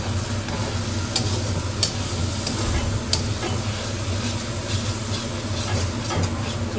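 Chicken masala sizzling and frying in a pan in a home kitchen, a steady dense hiss with faint stirring clicks throughout, close and continuous with no talking.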